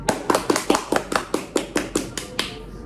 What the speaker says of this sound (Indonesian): Tepuk tangan dulu, Parian.